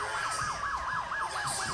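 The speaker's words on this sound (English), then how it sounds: "You can hear the cop car sirens." Police car sirens wailing outside a high school football fieldhouse, a rapid repeating up-and-down yelp cycling steadily about four times a second, fairly distant and with no talk over it.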